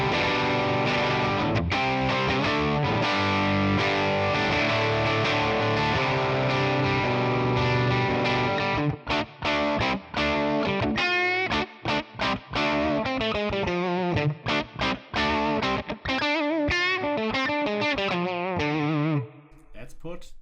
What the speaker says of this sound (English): So let's try this Gibson Falcon with a Les Paul first.